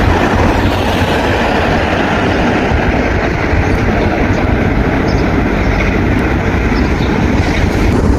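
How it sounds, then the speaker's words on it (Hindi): An old train at Longford station in Ireland gives off a loud, steady rumble that fills the air without a break, heard close by with no talk over it. "एक ट्रेन रुकी है, पुरानी सी ट्रेन है ये।"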